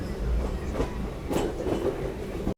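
The SMVT Bengaluru–Murdeshwar Express rolls to a stop at Ramanagara, a low steady rumble with soft wheel clatter and a few louder knocks before it cuts off.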